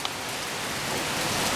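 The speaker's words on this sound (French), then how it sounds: "La grêle, la grêle. La grêle 2017. Waouh. Là, ils font du bruit." Hail pelting down in a 2017 storm, a dense, steady hiss of countless small impacts that holds evenly loud and close throughout, with no voices.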